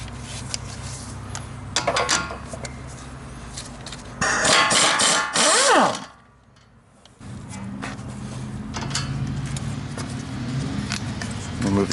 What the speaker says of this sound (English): Now remove that center spring perch bolt.